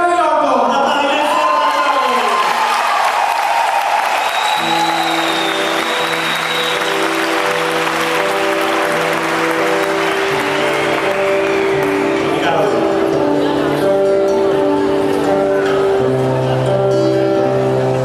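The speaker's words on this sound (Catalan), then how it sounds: "Un aplaudiment" Applause from an audience greeting a singer opens the stretch and continues as a dense wash, while sustained musical tones enter and build beneath it.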